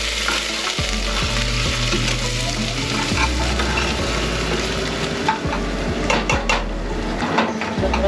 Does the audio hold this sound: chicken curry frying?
yes